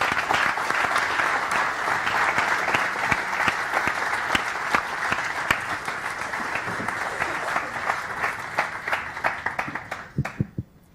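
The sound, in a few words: audience applause after a conference talk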